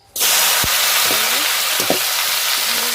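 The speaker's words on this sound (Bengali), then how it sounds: "বেগুনের তেলেতেই তেলটাও গরম হয়ে গেছে, আর একটু কিছুটা তেল দিয়ে দিলাম।" Soft eggplant frying in hot oil with more oil just added, a loud, dense sizzle that bursts in suddenly and holds steady close by, with a few faint clinks beneath it.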